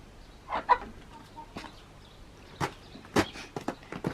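Chickens in a backyard coop give a few scattered clucks and short calls, fairly near but quiet, with faint footsteps and shuffling in between.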